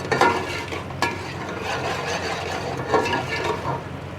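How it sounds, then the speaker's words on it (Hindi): Desi ghee bubbling and sizzling in a pan of melted sugar for zarda sweet rice, a steady close crackle with a few sharp clinks of a spoon against the pot. "अब मैं इसमें डाल दूँगी देसी घी। ये तकरीबन 3 टेबल स्पून हम इसमें डालेंगे। इसको हम 2 से 3 मिनट के लिए पकाएंगे।"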